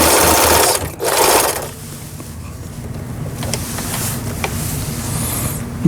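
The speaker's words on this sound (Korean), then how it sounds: "지그재그 바느질이 되고 있는" A Singer Merritt sewing machine runs a zigzag stitch, giving a loud, steady mechanical whirr with rapid needle chatter. A brief louder burst comes near the start, then it settles into an even hum.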